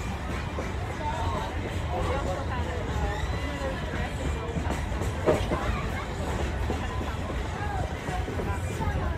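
Steady rumbling of a train rolling along the rails, continuous and fairly loud, with faint background chatter throughout.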